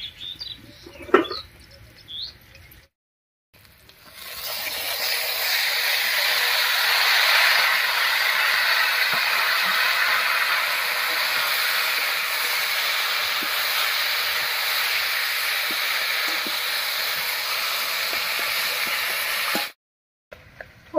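Kochu shak greens drop into hot oil tempered with garlic and slit green chillies, setting off a loud, sustained sizzle that holds steady for about fifteen seconds before cutting off abruptly.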